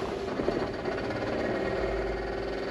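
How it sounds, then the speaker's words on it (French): Steady whirring drone of the heater ventilation fan in a 1956 Ford F100, a continuous close hum with faint rattle and a low rumble joining near the end. "On entend, il tourne, la ventilation tourne, mais en fin de compte, j'ai pas réussi à l'arrêter."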